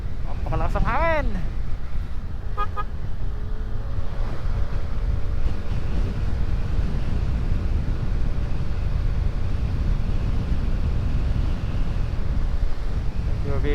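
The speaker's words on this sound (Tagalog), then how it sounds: "Napakalakas ang hangin." Strong wind roars steadily across the microphone during a motorcycle ride on the road from Laguna to the Bicol region, loud and unbroken, with a few brief whistling sweeps at the start.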